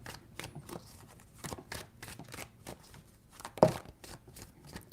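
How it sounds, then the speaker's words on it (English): Tarot cards shuffled by hand in short riffling bursts, about a dozen quick papery flicks at an uneven rhythm, close and fairly quiet with no talk. "3 shuffles."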